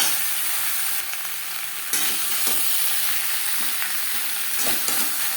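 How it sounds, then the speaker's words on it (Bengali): Potatoes fry in oil with roasted spice powder, a continuous sizzle broken by scraping stirs and occasional louder bursts as the mixture is turned in the pan, no voices. "ভাজা মশলা আলুর সাথে বেশ ভালো করে মিক্স করে দেবো"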